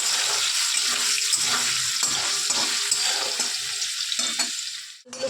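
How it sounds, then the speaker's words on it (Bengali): Potato pieces frying in a pan of hot oil, a steady close hiss and crackle running almost without a break before it cuts off near the end. "আলুটা ভেজে নেবো"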